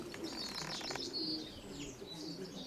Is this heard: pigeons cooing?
yes